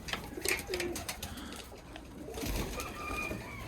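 Pigeons and doves, Iraqi breeds kept in Germany, cooing softly in a loft, with brief low calls over background rustling and no talk.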